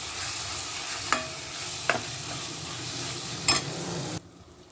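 Crushed peanuts are stirred into dill greens frying in a pan, giving a steady sizzle broken by three scraping strokes of the spoon before the sound cuts off.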